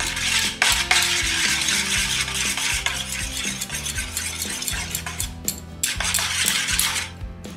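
A utensil briskly stirs and beats eggs with salt and chilli powder in a bowl, giving continuous rhythmic clinking and scraping, close and fairly loud, with no talking.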